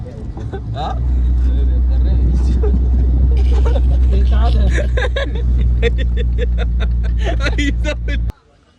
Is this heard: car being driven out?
yes